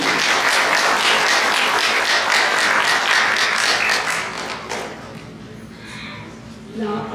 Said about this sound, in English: So big round of applause for Ms. Robin Bartman